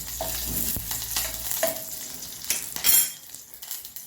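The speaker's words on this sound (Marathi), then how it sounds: "त्यानंतर मी याच्यामध्ये कढीपत्ता घालते चांगले भाजलं" Curry leaves sizzling and crackling in hot oil in a pan for a mackerel curry, with spoon scrapes and stirring clatter, close and loud at first, then fading toward the end.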